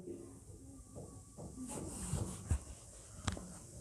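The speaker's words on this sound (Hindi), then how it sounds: "घी हमारा गर्म हो चुका है। अब इसमें 1 कप बेसन शामिल कर लेंगे" Gram flour (besan) drops into hot ghee and sets off a soft, steady hiss of frying. A few brief clinks from the pan rise above the sizzle.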